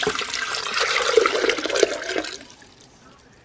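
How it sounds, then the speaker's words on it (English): Three cups of water pour into a blender bowl in a steady splashing stream for about two seconds, then taper off to a faint trickle and near silence. "And I got my 3 cups of water. I'm going to pour it in there."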